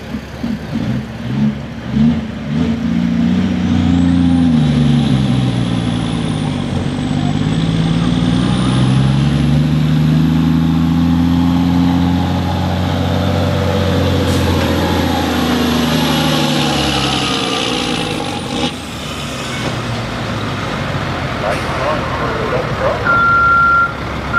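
A truck's engine roars loud and close through a classic truck pull run, its pitch climbing and falling as it labors under load, then dropping off near the end.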